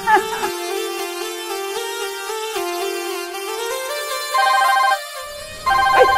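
A mobile phone ringtone plays loud and close, a repeating electronic melody of stepped tones that runs continuously throughout with slight shifts in level.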